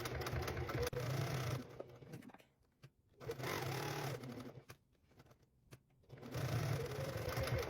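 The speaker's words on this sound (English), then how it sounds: "and I'm going to backstitch, and then we're going to go down and across and up, and then we're going to come back again." Sewing machine running in bursts while backstitching a seam, a steady close motor whirr with rapid needle chatter that stops and restarts several times with short quiet gaps between runs.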